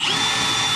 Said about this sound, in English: wish me luck drilling a hole in the side of my camper.